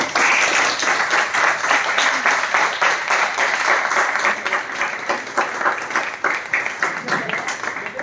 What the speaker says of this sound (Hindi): उनके लिए एक बार जबरदस्त ताली हो